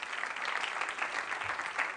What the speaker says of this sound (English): Marcos, give him a round of applause.